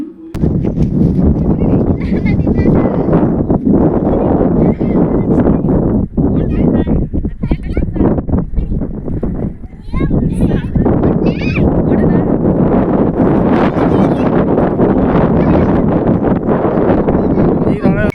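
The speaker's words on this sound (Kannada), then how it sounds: "ತುಂಬ ಗಾಳಿ ಬೀಸ್ತಾ ಇತ್ತು ಹಾಗಾಗಿ ವಿಡಿಯೋದಲ್ಲಿ ನಾವು ಮಾತಾಡಿರೋದೇನು ಕ್ಲಾರಿಟಿಯಾಗಿ ಕೇಳಿಸ್ತಾ ಇಲ್ಲ ಬರೀ ಗಾಳಿ ಸೌಂಡೇ" Loud buffeting wind blasts into the microphone almost nonstop in a tomato field, rumbling and distorting while voices talk underneath, barely audible.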